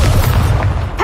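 A Confringo blast spell detonates in Hogwarts Legacy, a loud close booming explosion with a deep rumbling body that fills the whole moment before a brief sharper crack at the end.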